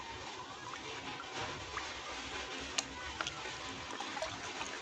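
Roughly 250 ml of water is poured in a quiet, continuous trickle with a soft splashy hiss and a few faint drips, heard alone.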